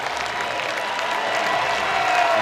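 A baseball crowd rises to applaud its ace pitcher, a sustained wash of clapping from many hands with faint cheers, steady and broad across the stands after a rain shower.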